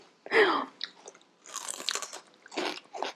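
Raw celery is bitten and chewed in loud, crisp crunches, with several separate bursts of snapping and chewing close up and no talk over them.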